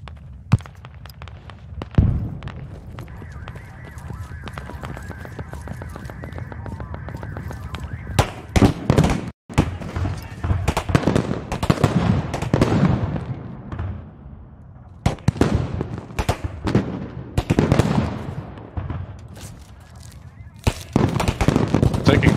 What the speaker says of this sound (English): Vehicle fire from the south of Hangu. Sounds like a BTR.